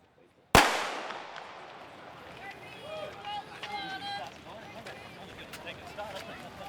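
A single sharp starting-gun crack opens a 5000m race walk at the 2010 Victorian championships, then fades into open-air crowd murmur and distant voices.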